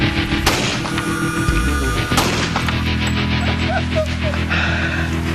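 A rifle bullet strikes a cinder block at a shallow 22.5-degree angle, heard as a loud sharp crack near the start and another at about two seconds, each with a booming tail, over a dense, steady background roar.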